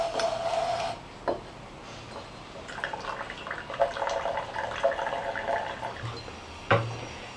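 Liquid carefully poured off gold sediment recovered from computer parts, a soft intermittent trickle and splash with small drips, fairly quiet and close, with brief clinks of glassware.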